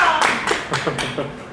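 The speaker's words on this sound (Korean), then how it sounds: "박수 한 번 더 부탁드리겠습니다." At a Korean public lecture on the Bu-Ma Democratic Uprising, the audience claps briefly in a steady patter that fades out, with faint speech mixed in.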